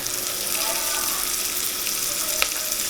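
Coriander leaves stirred and roasted in hot oil over a low gas flame for a Maharashtrian village chicken sukka, a steady close sizzle with faint scraping, no talk.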